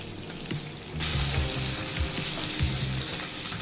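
Five to six roughly chopped onions drop into hot oil for matar paneer and break into a loud, steady sizzle, with occasional stirring clunks from the pan and no talk.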